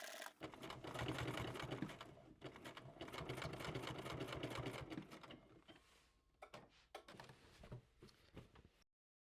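Sewing machine stitching a seam on a garment from McCall's pattern M8560, a steady fast mechanical whir with short pauses and restarts, close and loud, alone without talk.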